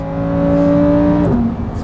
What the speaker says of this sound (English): And the sound of the engine, it's fantastic.